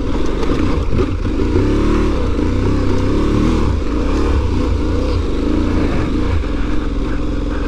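An Aprilia Tuareg 660 adventure motorcycle pulls away in first gear, its engine revving loud and close with a steady, rough throb and some clatter, no talk over it.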